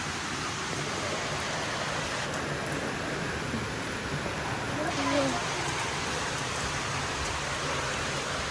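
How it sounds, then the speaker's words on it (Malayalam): Heavy monsoon rain pours down around a home, a steady, dense hiss that fills the whole stretch evenly, with a faint voice briefly under it. "പെരും മഴ"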